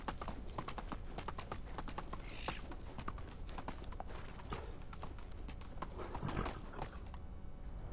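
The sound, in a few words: horse hooves clip-clopping in the video game Medieval Dynasty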